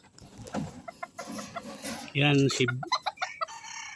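Bantam chickens clucking with a rooster crowing loudly midway, close by, with a brief word spoken.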